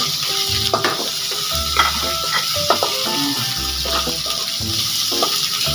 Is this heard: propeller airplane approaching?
no